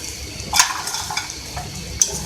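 Namak pare, crisp salted dough pieces, frying in hot oil with a steady bright sizzle, broken by two sharper crackling bursts from stirring near the half-second mark and again just after two seconds.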